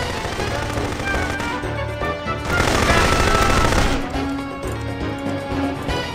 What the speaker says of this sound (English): So we have a combat shotgun, and we do have explosive rounds.